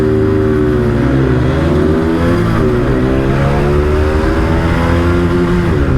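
Two motorcycles, a 2024 Bajaj Pulsar NS160 and a TVS Apache 160 2V, drag racing side by side, their engines droning loud and close with rising, overlapping pitch as they accelerate hard through the gears.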